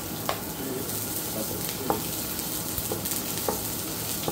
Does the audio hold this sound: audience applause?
no